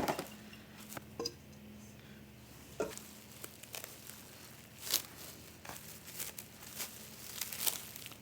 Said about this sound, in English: Now I'm going to put it into some saran wrap